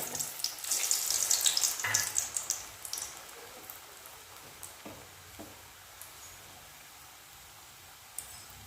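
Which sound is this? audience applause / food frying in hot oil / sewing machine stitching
food frying in hot oil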